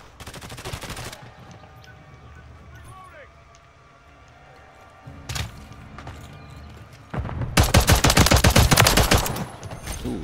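Gunfire in Call of Duty Modern Warfare 3 played with a pistol only, with sharp shot bursts at the start, a single crack midway and a dense rapid volley near the end, amid game effects and occasional talk.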